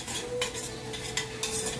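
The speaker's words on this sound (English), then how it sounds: "I just put a little minced garlic in there. And so I'm going to give this a nice little stir." A utensil stirs minced garlic in a pan, scraping and clinking against the metal in a few uneven strokes over a faint sizzle, close and fairly loud with no voices.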